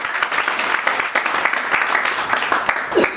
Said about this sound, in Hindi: जोरदार ताली बरसा सकते